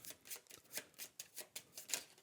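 Playing cards for the Trickerion board game are shuffled by hand: a steady run of about nine crisp, riffling bursts, close and fairly quiet, with no talking.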